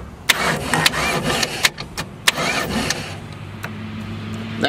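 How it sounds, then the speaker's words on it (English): An Indmar inboard boat engine with ignition disabled is briefly cranked in a quick series of sharp rhythmic clicks and churns, then falls to a low hum. "And then just bump the engine a little bit."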